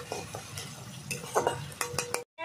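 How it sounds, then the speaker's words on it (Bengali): Ground onion paste frying in a pan while being stirred, with metal utensil scrapes and clinks over a soft sizzle, close and fairly loud, ending in a brief silence before the clatter resumes. "পেঁয়াজটা ভালো করে আমি একটু ভেজে নেব,"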